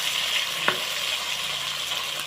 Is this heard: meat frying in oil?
yes